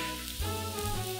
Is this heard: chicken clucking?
no